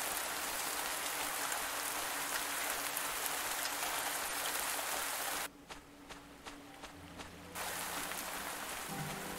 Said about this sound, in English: Sun's out and I still hear rain.